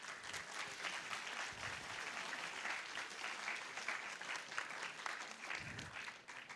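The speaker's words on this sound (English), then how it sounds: "So why don't we give them a round of an applause first?" Sustained applause from an audience at a closing ceremony forum honoring the speakers, a dense even wash of clapping lasting several seconds before fading slightly at the end.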